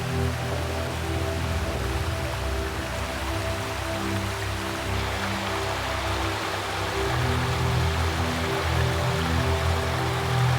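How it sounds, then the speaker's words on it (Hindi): Water from a waterfall slides over a large brown stone into a pond near Sankri village in the Himalayan hills of Uttarakhand, giving a steady, close, broadband rushing wash that holds even throughout, with no voices. "ये ऊपर एक वाटरफॉल से निकलकर इस बड़े से ब्राउन पत्थर से फिसलकर आता हुआ यहाँ एक खूबसूरत से पॉन्ड का रूप ले रहा था।"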